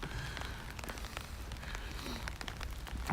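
Steady rain on a cold day in Tokyo, a dense even hiss of drops pattering on surfaces with scattered sharper taps, continuous and close throughout with no voices.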